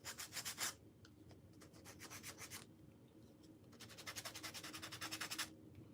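Sandpaper rubbing along the edges and sides of a wooden sign being distressed for a primitive look, in two bursts of quick rhythmic back-and-forth strokes with a quieter pause between, close and fairly soft.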